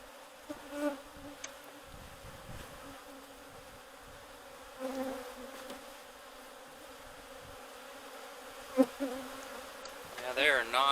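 Honeybees buzzing around an opened hive during a queen cell check, a continuous close drone that swells in a few brief louder passes as bees fly near, with light handling noises.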